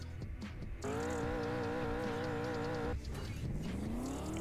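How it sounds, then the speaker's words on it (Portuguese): Sports car engine in a mobile driving game revs up to a steady high whine, holds it for about two seconds, then drops off and climbs again in a rising sweep, loud and close with no talking. "vamos ver como é que é o barulho desse carro"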